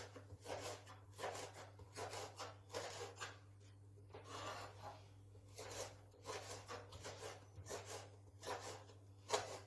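Knife slicing zucchini into thin julienne strips for a zucchini dessert, heard as repeated soft rasping strokes in quick bursts, fairly close but quiet, with a steady low hum underneath and no talking.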